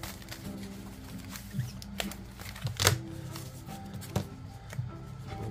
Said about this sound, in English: shuffling the packs.